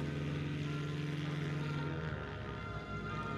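Dassault Flamant twin-engine propeller aircraft at an air show, heard as a steady, fairly loud engine drone with a strong low hum that holds throughout, then thins slightly near the end.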